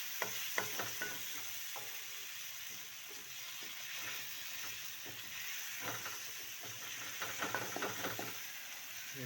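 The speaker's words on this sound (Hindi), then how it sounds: "अब इसे अच्छे से फ्राई करना है" Liver (kaleji) with ground dry spices frying in a pan, a faint continuous sizzle and hiss with scattered light scraping and tapping from stirring, fairly quiet and without voices.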